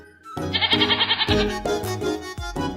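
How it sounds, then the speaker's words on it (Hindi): Goat bleating in a trembling, wavering series of cries, close and loud, followed by a few shorter bleats alone. "लगता है हमारा बकरा आ गया, ताशु बकरा लेके आ गया"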